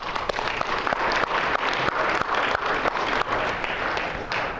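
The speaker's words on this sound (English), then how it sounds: "All right, so let's give them a round of applause." Lecture-hall audience applauding together, a dense steady patter of many hands clapping at close range for several seconds, with no talk over it.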